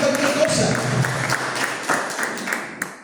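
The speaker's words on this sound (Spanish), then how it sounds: "¿Cuánto le dan aplausos al Señor en este tiempo?" Church congregation clapping and applauding in a burst, with scattered claps and voices mixed in, the applause fading over a few seconds.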